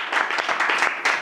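An audience at a fasting prayer gathering claps hard and continuously, a thick wash of applause with brief surges and no voices over it.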